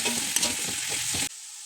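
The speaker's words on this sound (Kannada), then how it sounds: "ಈರುಳ್ಳಿನ ಚೆನ್ನಾಗಿ ಗೋಲ್ಡನ್ ಬ್ರೌನ್ ಆಗೋ ತನಕ ಹುರ್ಕೊಬೇಕು." Onions fry in oil until golden brown for a dum biryani, giving a loud, continuous sizzle with stirring scrapes close up before it suddenly cuts off.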